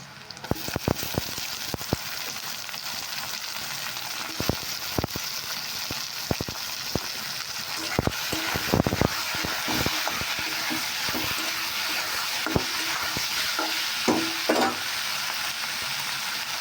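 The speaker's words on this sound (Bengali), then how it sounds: "পেঁয়াজ আমার প্রায় লাল হয়ে ভাজা হয়ে গেছে এবার তুলে দেব বেছে রাখা নুন হলুদ মাখানা চিংড়ি মাছ" Salted, turmeric-coated small shrimp hit hot oil with fried onions, giving a continuous loud sizzle broken by sharp pops and scraping stirs, with no voices.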